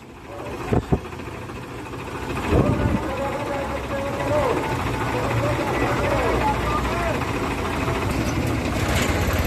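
Tractors gathered in a village for a farmers' protest march rumble with a steady, continuous engine drone close by, while people talk over the noise throughout.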